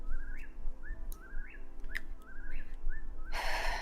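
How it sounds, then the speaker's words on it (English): Bird calling in ambience played during a tabletop game: a repeating rising whistled call, about five times at a steady rhythm over low rumbling background, followed by a burst of loud noise. "the sound of this bird does not stop for the entirety of those few days."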